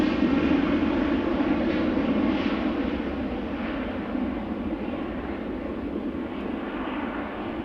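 A jet airliner takes off from runway 36L at Amsterdam Schiphol, a loud, broad roar that holds steady and slowly eases as it recedes, with no voices.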